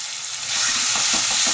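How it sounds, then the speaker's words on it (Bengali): Ground poppy seed paste sautéed and stirred in a pan for a mixed vegetable paneer curry, a loud, dense sizzle that swells after a quieter start, with soft stirring strokes and no talking. "এরপরে আমি দেবো পোস্ত বাটা। দিয়ে ভালো করে এটা আমি কষবো"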